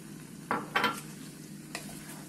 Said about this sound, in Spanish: Le adicionamos los 100 mililitros de leche y de una vez le vamos a agregar las 2 cucharadas de zanahoria rallada.